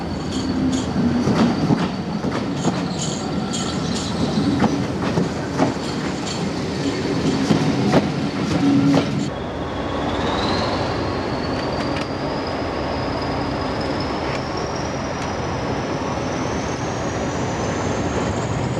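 Preserved Hastings diesel unit 1001 running on the Ashford line near Rye, with steady rumbling wheel and engine noise, clickety-clack and a rising whine as the train passes close by.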